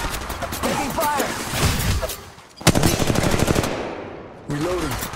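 Rapid automatic gunfire from a firefight in Apex Legends Mobile crackles in dense bursts, stopping and starting across the clip. In-game voices call out over the shooting.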